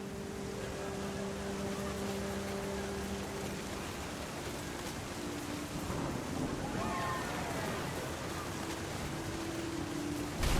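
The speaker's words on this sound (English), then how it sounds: "The thunder sounded much too close and full of angry power." Thunder in the game What Remains of Edith Finch, a continuous heavy rumble mixed with rain and wind noise, steady and fairly loud throughout with a slight swell near the end.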